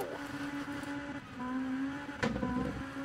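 Lancia ECV rally car racing up Pikes Peak in Sebastien Loeb Rally Evo: a loud, sustained engine note climbs and shifts pitch, with a sharp burst near the end like a gear change or tire scrabble, and no voices.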